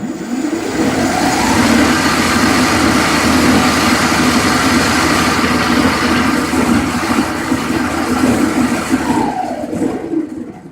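A brushed electric motor run by a brushed ESC at about 8 volts spins up and holds a steady, loud whirring hum, with a faint pitch rise at the start and a slight drop near the end.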